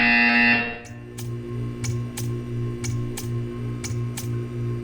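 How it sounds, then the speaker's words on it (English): Repeated buzzer pulses in the Portal 2 video game, roughly eight short evenly spaced beeps over a steady low electronic hum, fairly loud and with no talking. "You will hear a buzzer."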